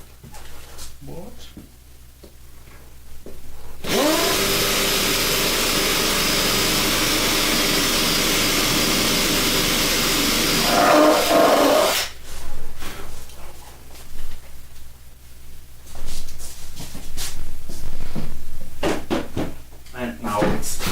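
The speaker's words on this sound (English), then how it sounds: "drill a larger hole" A power drill bores a larger hole into a board, a loud steady whine lasting about eight seconds and close by, with talk before and after.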